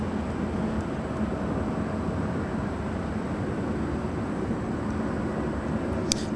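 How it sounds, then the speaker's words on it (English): An EVA Air Boeing 777-300ER departing LAX gives a steady, distant broadband jet roar that holds evenly throughout. "EVA Air Flight 5 heading back to Taipei in this 777-300ER"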